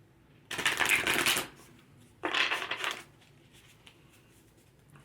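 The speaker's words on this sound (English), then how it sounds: "All right, let's shuffle again." Tarot cards are shuffled by hand in two crisp riffling bursts, close and clear, with quiet between them.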